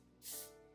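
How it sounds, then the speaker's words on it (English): A single short, faint hiss of hairspray is sprayed onto a brow spoolie, a quick burst that swells and fades within half a second in a quiet room. "And I'm going to be spraying it with hairspray."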